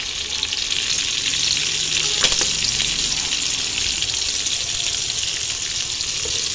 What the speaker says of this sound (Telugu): ఫ్రై అవుతుంది, ఫ్రై అయిపోయిందండి